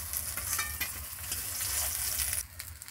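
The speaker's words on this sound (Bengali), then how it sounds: "এই মাছগুলো আমার ভালো করে ভেজে নেওয়া হয়ে গেছে," Katla fish pieces fry in hot oil for a yogurt-style katla dish, a busy crackling sizzle with light stirring and clinks that drops away sharply just before the end.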